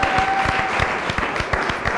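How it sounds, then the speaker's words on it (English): Applause from a studio audience at a Christmas special show, dense clapping over about two seconds with a steady, fairly loud wash and a faint voice underneath. "A round of applause."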